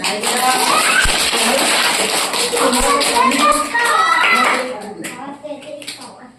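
A group claps and taps together over children's chatter and voices, loud and continuous before thinning out toward the end.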